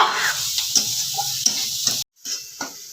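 Eggplant frying in hot oil in a pan, a close steady sizzle broken by occasional clicks of stirring, with a brief cutout before the sizzling resumes.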